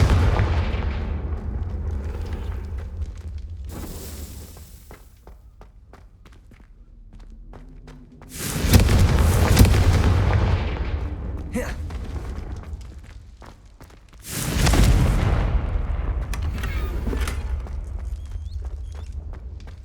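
Two heavy Confringo fire-spell blasts burst in Hogwarts Legacy, each a loud booming whoosh that swells and slowly fades, separated by several seconds of quieter footsteps and ambience.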